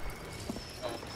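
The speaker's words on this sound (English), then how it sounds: "I'm riding the horse." A horse galloping in the video game Battlefield 1: soft, fairly faint hoof clip-clops in a quick rhythm over a steady game background, with no talking.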